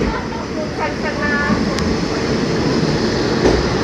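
A train in Japan rumbles steadily close by, with a faint metallic squeal and a few clicks over a constant broadband roar.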